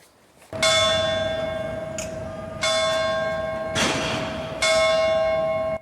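Church bells in Monreale, Sicily toll loud and close, four ringing strokes spaced about a second apart, each leaving a long humming decay that overlaps the next.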